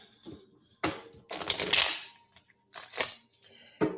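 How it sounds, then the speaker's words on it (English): A deck of tarot cards is shuffled by hand in several bursts of papery riffling and slapping, loud and close, with the longest flurry in the middle and brief quiet gaps between them. "Get a nice good shuffle."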